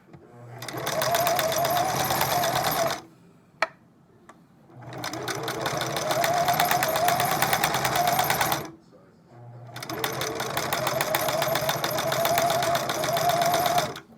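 A vintage Singer Merritt sewing machine, long unused, runs in three long bursts of about three seconds each, with brief pauses between, loud and close with a steady mechanical whir.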